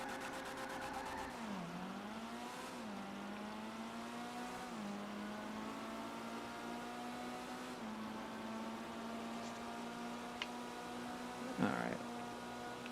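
Dinka Postlude car in GTA 5 Online driven steadily, its engine droning with rising and falling revs and gear changes, fairly quiet and continuous, with a brief sharp sound near the end and a voice talking over it.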